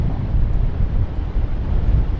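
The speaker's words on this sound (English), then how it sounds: "still windy" Steady, gusty wind rumbles and buffets the microphone at a beach near the Fort Stevens shipwreck, a loud, continuous roar with no talk.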